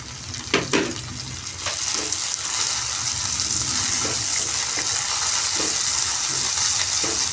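Mint leaves fry with ginger garlic paste in a pan for meal maker pulao, giving a loud, continuous sizzle with a few stirring scrapes near the start, close and without any talk.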